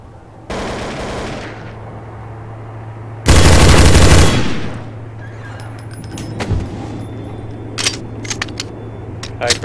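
Gunfire from Counter-Strike: Source on a train map: one sustained burst of automatic fire, then a second louder, denser burst, followed by scattered sharp shots and clicks over a steady low hum.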